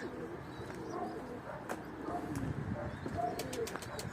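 Pigeons coo softly in low, repeated murmurs against a noisy background, with occasional faint chirps.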